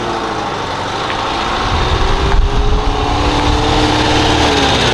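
A camper van engine runs steadily, with a continuous mid-level drone and rumble that swells slightly about halfway through, and no voices heard.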